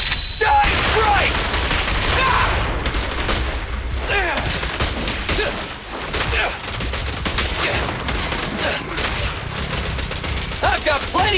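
Dense, continuous gunfire rattles through a combat scene in the video game Zenless Zone Zero, loud bursts layered with impacts, effects and music, with in-game character voices calling out over the shooting.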